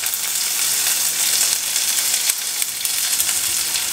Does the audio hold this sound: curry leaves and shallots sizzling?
yes